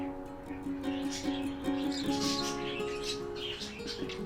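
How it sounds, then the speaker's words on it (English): Small birds chirp and tweet in quick, overlapping calls around a smart camera bird feeder in the morning, fairly close and steady throughout, with a possible coo and a brief wing flutter. "just birds enjoying a peaceful breakfast, drawn by the reliable feeder"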